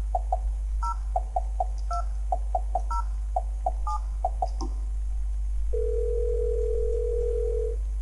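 A phone in the video game Silent Hill: Shattered Memories dials security at a closed mall: a quick run of clean dial tones in an uneven rhythm, then a steady ringing tone, heard alone over a low constant hum.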